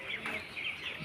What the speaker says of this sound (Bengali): মুরগিগুলো দেখতে অনেক সুন্দর লাগে